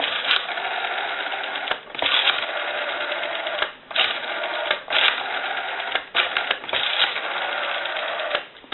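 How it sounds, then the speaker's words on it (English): Rotary dial of a Western Electric 302 desk telephone, sluggish and in need of cleaning, whirring and clicking steadily in close, mid-loud bursts with brief pauses as it is repeatedly turned and returns. "I also want to go ahead and show you the rotary."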